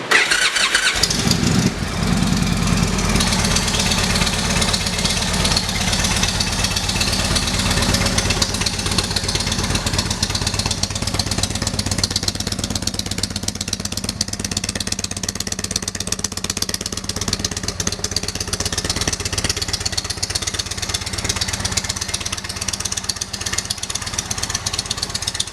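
A 2016 Indian Chieftain motorcycle idles steadily through its exhaust pipes, a continuous low rumble that stays loud and close for the whole stretch after a brief start, with no talking.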